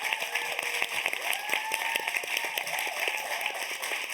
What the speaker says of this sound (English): I want us all to give a huge round of applause to Sultan, Sunny, and Antonia